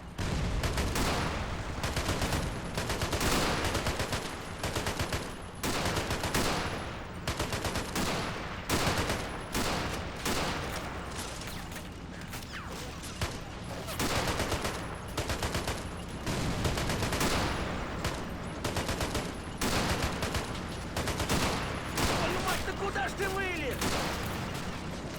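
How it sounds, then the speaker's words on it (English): Sustained machine gun fire in a WWII trench-defence video game with a realism mod, loud rapid bursts repeating in a dense rhythm for the whole stretch, mixed with other distant gunfire and battle noise. "Let's get back on the machine gun, guys."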